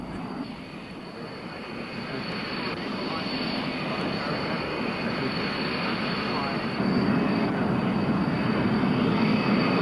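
An F-111 Aardvark swing-wing jet aircraft roars in flight with a steady, broad engine rumble that holds throughout and swells slightly louder toward the end, with a voice talking over it.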